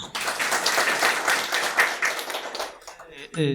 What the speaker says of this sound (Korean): 김형준 교수님 박수로 맞아줍시다